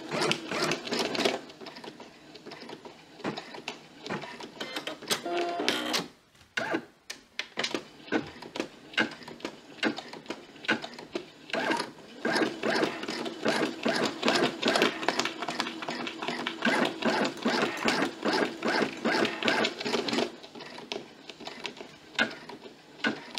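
An embroidery machine stitches out alignment lines on hooped fabric, a rapid rhythmic mechanical chatter running in bursts with a brief pause near six seconds and again near twenty, close and steady.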